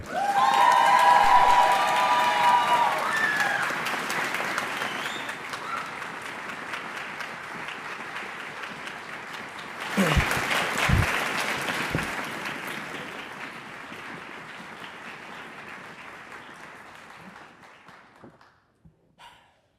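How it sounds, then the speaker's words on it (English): Audience at a spring school band concert cheering and applauding an orchestra award winner, a loud burst of clapping and shouts that fades, then swells again before tapering off to near silence. "they're about to cheer loudly again"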